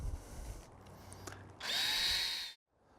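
Power drill driving Phillips screws while installing a Bestop Trektop soft top on a four-door Jeep JK Unlimited: a brief whir early, then one loud sustained high whine for about a second that stops abruptly, close by, with no talk.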